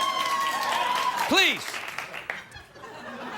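A late-night talk show studio audience applauds, a moderate wash of clapping beneath a voice that dominates the moment, with the applause fading toward the end.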